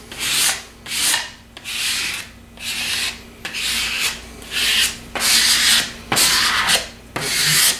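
A plastic card rubs firmly back and forth over a large wall decal, making a steady rhythm of about a dozen scratchy, sanding-like strokes close by with no talking.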